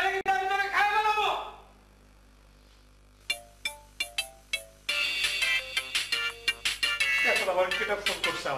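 A mobile phone rings for an incoming call, giving a run of bright, evenly spaced electronic ringtone tones that repeat in short bursts between stretches of a person talking nearby.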